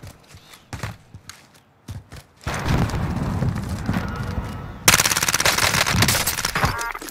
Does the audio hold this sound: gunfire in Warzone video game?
yes